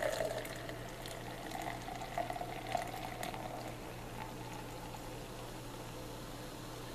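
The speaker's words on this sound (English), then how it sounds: "So we are going to get our pour and our smell with our new mug." Woodchuck Granny Smith hard cider pours into a large mug, a steady close liquid rush and fizz running for several seconds with no talk over it.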